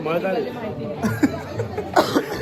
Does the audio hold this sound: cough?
yes